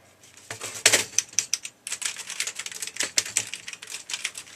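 Keys of an Amstrad CPC 464 keyboard being pressed down one after another, a quick run of close, sharp plastic clicks with a brief pause before a second, denser burst.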